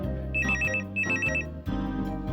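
A telephone bell rings in repeated trilling bursts, two full rings and the start of a third, loud and clear in an indoor scene from a Hindi TV serial, with no talk.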